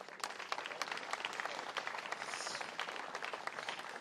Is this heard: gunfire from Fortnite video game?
no